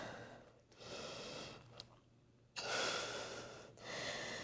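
Slow, deep breathing during a power core yoga flow while holding downward facing dog, with long airy inhales and exhales rising and falling in steady bursts, close and fairly quiet, with no talking.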